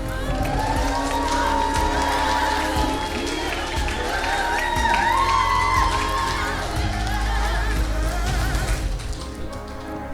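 Wedding guests at Upwaltham Barns applauding and cheering for the bridesmaids, a loud sustained patter of clapping with shouts and voices throughout.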